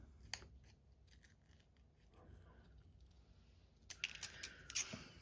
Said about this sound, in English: Let's trim it down a little bit more.